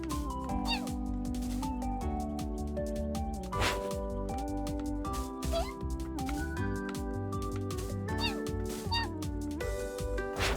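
A cat meows repeatedly in the video game Cloudpunk, the calls riding over steady, continuous game music and sound effects, with a voice talking at points.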